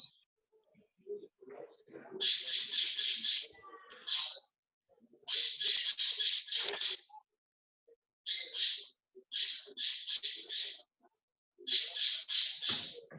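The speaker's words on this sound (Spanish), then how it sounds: "Escucho algo de fondo, pero no soy yo. Como un pájaro, ahora sí." A bird calls repeatedly in the background with bursts of harsh, rapid squawking notes separated by short pauses, fairly close and loud with no talking over it.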